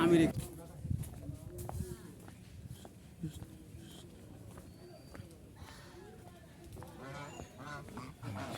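Domestic geese honk near a riverside temple site, with repeated nasal calls scattered among people talking nearby.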